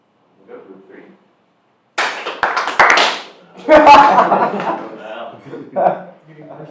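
Scattered claps from a small group of students at a university final project demo day, starting sparse and then swelling into brief uneven clapping mixed with laughter and chatter, close and moderately loud.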